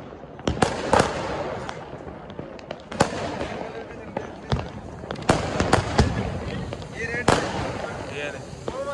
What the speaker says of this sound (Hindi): तो सारी जगह पटाखे चल रहे हैं यहाँ पे।